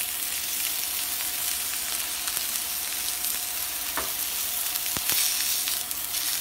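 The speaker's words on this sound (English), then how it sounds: "Alright, nice little sizzle we got going there." Chicken sizzles in olive oil in a pan, a steady crackling hiss with scattered sharp pops, close and moderately loud, with no talking.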